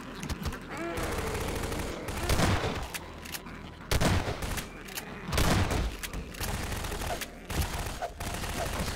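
Rapid bursts of gunfire from weapons in Garry's Mod on a haunted motel map, loud and dense with sharp repeated shots and heavier booms spread across the whole stretch, with faint voices underneath.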